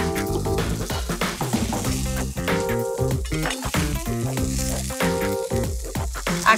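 Rosemary sizzles in olive oil in a frying pan, a steady hiss with light clinks of the pan, partly masked by continuous rhythmic background music.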